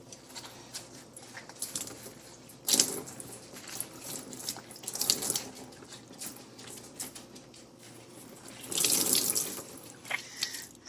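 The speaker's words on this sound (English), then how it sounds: "I just let the water out" Water draining from a sink after soaking a hand-knit Noro intarsia scarf, a steady gurgling run with a few louder splashy surges near the start and toward the end, close by and with no talk.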